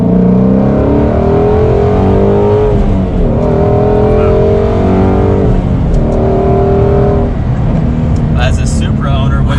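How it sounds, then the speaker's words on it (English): A Shelby GT350 Mustang's V8 engine revs in loud, rising sweeps, climbing through repeated gear pulls with brief drops between them, heard from inside the car while people talk over it. "It's more like an exotic V8 to have that kind of rev."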